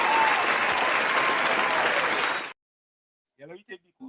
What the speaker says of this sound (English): You want to give him a round of applause?